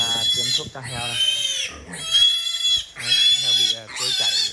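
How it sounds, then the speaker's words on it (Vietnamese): A farm pig squeals loudly and repeatedly while staff inject it with medicine, in shrill, strained bursts with brief gaps between them, close up. "Nhân viên đang tiêm thuốc cho heo này."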